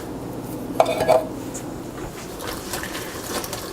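Okra and tomatoes for gumbo are stirred in a cooking pot, with a couple of brief metallic spoon clinks and scrapes near the start, then a quiet, faint simmering bubble.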